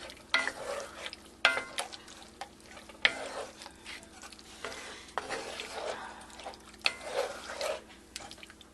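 Chicken livers cooking gently over medium to medium-low heat in a cast iron skillet: soft sizzling with repeated stirring scrapes and wet shuffling, close and moderately quiet, no talk.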